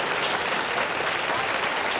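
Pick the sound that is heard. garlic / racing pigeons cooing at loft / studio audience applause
studio audience applause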